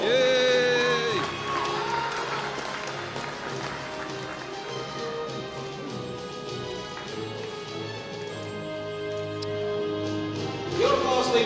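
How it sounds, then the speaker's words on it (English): A crowd cheers and claps with whoops over an announcer's voice on a loudspeaker at a short track speed skating European Championships, lively and sustained throughout. "Your applause, ladies and gentlemen, for Nicola Rodigari, Victor Knopf, and Niel"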